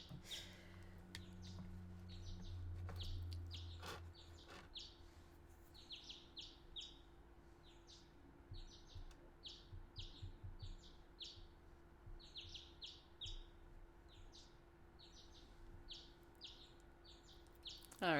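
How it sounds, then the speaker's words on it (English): Birds chirp and tweet in a video game, a string of short bright calls repeating in quick bursts over a faint steady background hum, with no talking. "Enjoy the birds! They make pretty sounds."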